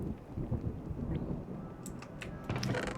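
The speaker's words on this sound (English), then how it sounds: "That's a pretty gnarly thunderstorm." A thunderstorm rolls through in Society Sunlit Valley. Low rumbling thunder and steady rain fill the scene, moderately loud, with a few sharp crackles and clicks near the end.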